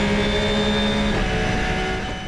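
Race cars at Spa-Francorchamps, including an Aston Martin, scream past at close range during the 4 Hours endurance race, a loud high engine whine with a Doppler drop as they go by.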